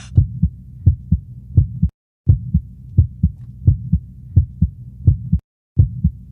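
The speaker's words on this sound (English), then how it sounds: "Just feel the heartbeat." Heartbeat sound in a live spoken-word performance: a steady lub-dub pulse, roughly two beats a second, low and thumping, with two brief silent gaps.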